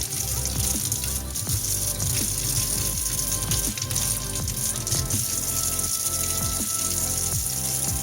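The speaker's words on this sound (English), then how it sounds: "Now we rinse the fork under the water." Running tap water splashes into a kitchen sink as a fork is rinsed under it, a loud continuous gush with clinks of metal against the basin.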